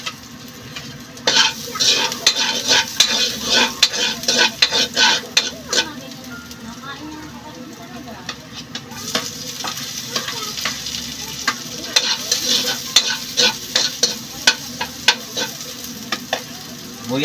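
Hot cooking oil sizzling and spitting in a pan, loud crackling bursts with rapid pops and stirring scrapes that rise and fall in waves; a faint voice is briefly heard in the background.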